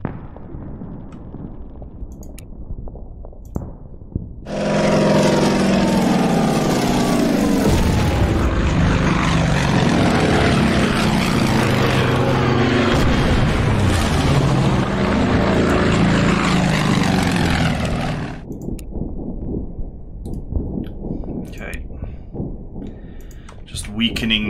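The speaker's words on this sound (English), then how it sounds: "Yep, more suicide planes." Kamikaze planes diving in on an attack in the Pacific war strategy game Order of Battle: a loud, dense roar of propeller engines and booms that lasts about fourteen seconds, with a person talking before and after.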